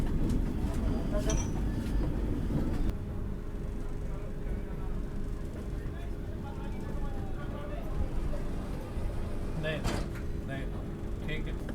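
A Vande Bharat train runs near Kanpur Central, heard from inside one of its last coaches: a steady low rumble fills the clip, with brief clicks and knocks from the carriage.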